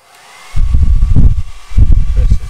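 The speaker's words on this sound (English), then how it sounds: "make sure it has like a cool button on it to keep the temperature cool or as cool as possible for a hairdryer" A hair dryer on its lowest heat and low fan setting starts up after a brief quiet moment, then blows with a loud, breathy rush that dips once and resumes, heard close and alone.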